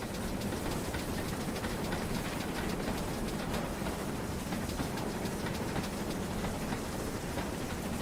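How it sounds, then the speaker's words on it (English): Steam locomotive in a train simulator slowing with the reverser, a steady broadband rumble and hiss of the rolling train with faint rhythmic rail clatter, continuous and without voices. "We're going to slow down the old-fashioned way. With the reverser."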